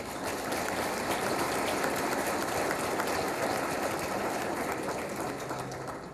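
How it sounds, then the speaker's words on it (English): Sustained applause from an audience at an awards dinner for police officers and detectives, a steady dense patter of clapping that holds throughout at moderate distance with no talk over it. "Let's give them a round of applause."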